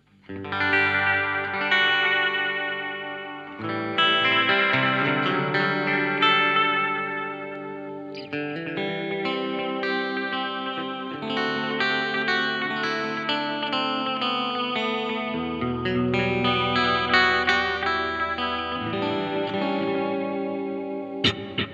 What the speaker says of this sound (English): I'm switching on and off the Memory Man, but I listen to this, I love it